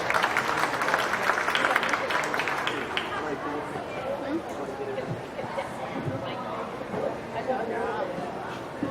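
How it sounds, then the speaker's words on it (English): A modest round of applause for an exhibitor leaving the arena at a county fair beef cattle show, scattered clapping that fades into crowd chatter and general arena noise, moderately distant. "Go ahead and give her a round of applause as she exits."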